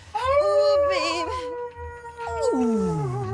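Drawn-out howls from the studio multitrack of Michael Jackson's Thriller, wavering tones that rise, hold and slide downward, loud and close over a soft rhythmic backing pulse.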